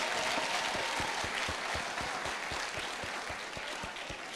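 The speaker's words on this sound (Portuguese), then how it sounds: "Clap hands properly for Jesus." A church congregation claps hands together in a steady rhythmic beat, sharp claps repeating evenly over a dense wash of crowd noise throughout.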